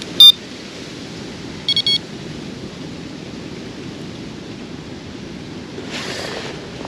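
Steady broadband wind roars across a carp fishing lake, a continuous outdoor rush with a few short electronic beeps early on and a brief louder gust near the end.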